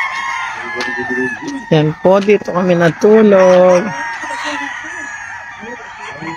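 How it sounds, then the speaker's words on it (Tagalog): Roosters crow and chickens cluck in a crowded flock at Baluarte Guapo, several loud crowing calls overlapping near the middle, with people talking before and after. "Yan po ang mga manok nila."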